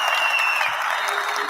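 Steady applause from a crowd, loud and continuous throughout with no pauses.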